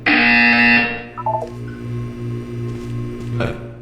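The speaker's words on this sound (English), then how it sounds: "You will hear a buzzer. When you hear the buzzer, look up at the ceiling." A loud, harsh electronic buzzer in Portal 2 blares for about a second, followed by a brief descending tone and a lingering low hum.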